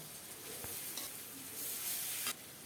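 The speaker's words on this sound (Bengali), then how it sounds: "খুব সুন্দর মতো নেড়ে চেড়ে সরিষাটাকে ভেজে নিলাম" Mustard seeds frying in a wok while being stirred, a close steady sizzle with scraping strokes and occasional sharp pops, fairly quiet and with no talk.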